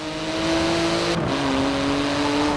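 A 3.8-litre twin-turbo flat-six car engine accelerating hard in Forza Horizon 4, a loud, rising engine note with a quick gear shift midway before it climbs again.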